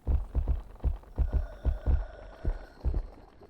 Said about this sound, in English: There was something heavy stepping around.